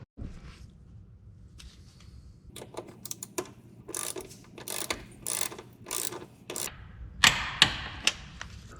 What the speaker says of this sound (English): I'm gonna go ahead and torque up the 12 mil bolts up top here